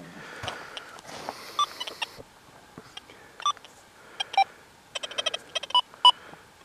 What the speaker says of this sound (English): I've been sweeping this detector, listening to silencer 1 out here in this damn iron